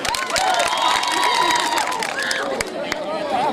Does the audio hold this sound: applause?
yes